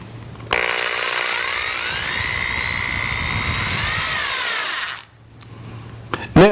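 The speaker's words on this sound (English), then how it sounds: "make a 1/8 inch deep starter hole in the door frame with this 3/4 inch spade bit" Power drill boring a starter hole into a door frame with a 3/4 inch spade bit, a loud steady whine for about four and a half seconds that then stops.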